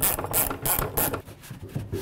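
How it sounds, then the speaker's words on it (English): A ratchet tightens the fuel pump mounting bolts on a 1984-2001 Jeep Cherokee, giving close, crisp clicking strokes in short repeated bursts with brief pauses between them. "Now I'm going to tighten up the mounting bolts."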